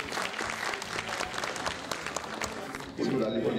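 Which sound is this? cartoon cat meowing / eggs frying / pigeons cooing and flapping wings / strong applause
strong applause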